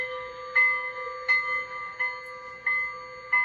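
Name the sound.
model train bell sound, Bachmann Shay with Zimo decoder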